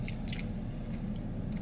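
Someone chews a bite of a Spider-Verse burger close to the microphone, with soft, wet crunching and smacking sounds over a continuous low background rumble and no talking.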